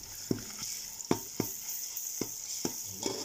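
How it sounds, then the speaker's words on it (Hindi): Browned onions with ginger-garlic paste frying and being stirred in a pan for fish curry, a steady hiss of sizzling with repeated soft scraping knocks from the spoon at irregular intervals, close and moderately loud, no talking. "और थोड़ा सा भूनेंगे ताकि लहसुन अदरक का कच्चा जायका ख़त्म हो जाए"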